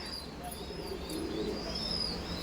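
Pigeons in a loft coo softly with a few faint chirps and brief wing flutters, fairly quiet and near over a steady background hum, no talking.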